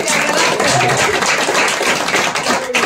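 Audience applause welcoming guests at a party celebration, a dense, steady wash of many hands clapping close by for about three seconds with no break.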